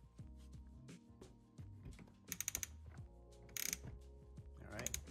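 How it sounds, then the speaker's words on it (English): Ratchet with a 10mm socket snugging a nut on a splash guard of a 2022 GR86, quick bursts of close clicking under steady background hum and muffled knocks. "go ahead and snug it up with your 10mm"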